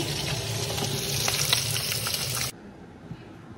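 Taro pieces boil in a pot, producing a dense, steady bubbling hiss that runs at close range for about two and a half seconds and then drops off sharply to a faint background.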